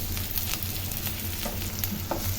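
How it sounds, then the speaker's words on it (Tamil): Sliced onions and green chillies sautéing in a hot pan for shawarma filling, a dense, continuous close sizzle with scraping stirs of a spatula throughout. "முதல்ல ஆனியன் வதக்கிடலாம் அது கூடயே வந்து இப்போ பச்சை மிளகாயும் சேர்த்து வதக்கிடலாம்"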